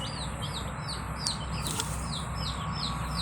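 Chickens cluck and chirp in a steady, busy chorus over a low background hum, with no talking.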